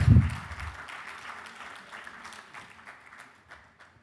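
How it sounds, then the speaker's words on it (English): A conference audience at an inaugural session gives a round of applause, a thick burst of clapping that starts strong and gradually thins and fades over a few seconds. "Can we have a round of applause, please?"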